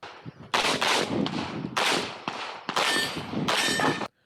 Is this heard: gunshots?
yes